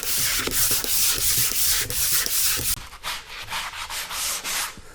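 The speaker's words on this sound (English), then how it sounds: "you can just sand those with a 360 sander or a sponge" Drywall on an interior wall is sanded by hand, a close, steady abrasive scrubbing in rhythmic back-and-forth strokes that softens and becomes more rhythmic partway through, with no talking.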